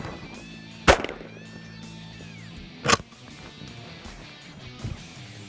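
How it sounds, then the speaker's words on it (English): Defensive shotgun firing birdshot at a paper target outdoors, two sharp loud reports about two seconds apart with a fainter pop after, over quiet background. "I'll fire it high on the paper target"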